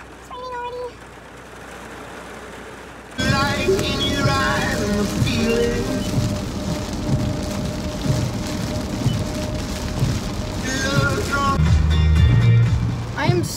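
Rain pattering steadily on a car from inside, a dense hiss that starts abruptly and holds loud throughout, with a low idling rumble and someone talking over it.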